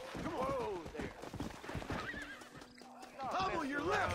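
A horse whinnies and its hooves clip-clop in Red Dead Redemption on Xbox 360. Two loud neighs come at the start and end, with hoofbeats between them, and someone talks over the game sounds.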